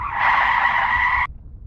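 Car tires squeal in a loud, sustained skid as the brakes are hit in an animated series, a single screech lasting about a second before cutting off abruptly.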